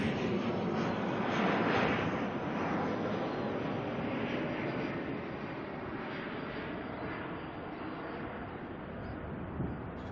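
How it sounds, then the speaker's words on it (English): An ATR turboprop airliner, flight NZ5066 arriving from Nelson at Auckland Airport, gives a steady broad engine roar from some distance that holds throughout and eases off slightly towards the end. "Coming in from Nelson here, the ATR NZ5066."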